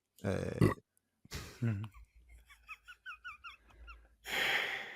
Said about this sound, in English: Guess the burp.